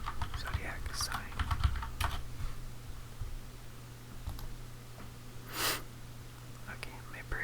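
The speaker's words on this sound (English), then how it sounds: "Do some impromptu keyboard sounds in this video." Close-up computer keyboard typing in quick bursts of soft clicks, with quiet whispering over it.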